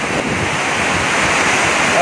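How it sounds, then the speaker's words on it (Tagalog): Heavy typhoon rain driven by strong wind on a terrace: a steady, loud, roaring wash of rain and gusting wind close to the microphone. "At mayroon na naman itong ulan ay mayroon na siyang kasamang hangin."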